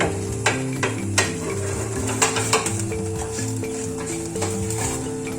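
A quick tea-time snack cooks in a pan with a sprinkling of sesame seeds, giving a steady sizzle with light scraping and a few sharp utensil taps, alongside a faint musical background.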